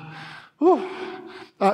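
A voice imitates a runner's out-of-breath gasping: two short bursts of panting breaths and voiced gasps, close and fairly loud, separated by brief silences.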